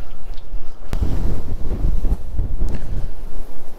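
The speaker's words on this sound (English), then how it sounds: "So I hear that wind." Gusty wind blowing outdoors at a trout fishing spot, buffeting the microphone with a loud, continuous low rumble that surges and dips, with no talking.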